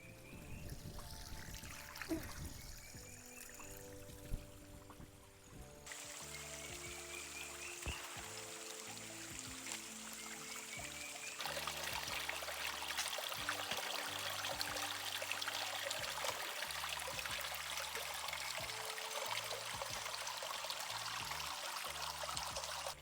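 Water trickles and pours continuously from a leaf spout in the forest at close range, a steady splashing flow that grows slightly louder toward the end.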